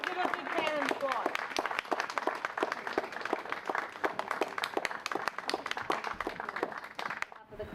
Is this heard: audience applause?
yes